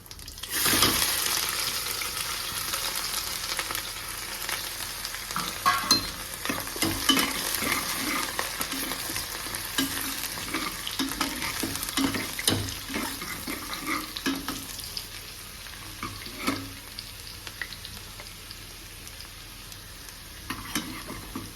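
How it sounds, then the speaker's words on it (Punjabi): Finely chopped ginger, garlic and green chilli fry in a pan for Punjabi-style chicken curry, a long crackling sizzle with frequent spatula scrapes and clinks, loud at first and easing slightly toward the end. "ਹੁਣ ਆਪਾਂ ਇਹਦੇ ਵਿੱਚ ਪਾਵਾਂਗੇ ਬਰੀਕ ਕੱਟਿਆ ਹੋਇਆ ਅਦਰਕ ਲਸਣ ਤੇ ਹਰੀ ਮਿਰਚ"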